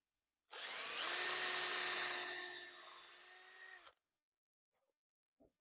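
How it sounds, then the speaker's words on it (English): A power drill runs in a woodworking shop while an ottoman is being built, whining loud and steady for about three seconds and then stopping. A few faint clicks follow. "This drill maybe is better."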